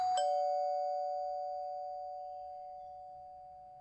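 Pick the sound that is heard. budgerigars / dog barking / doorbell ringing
doorbell ringing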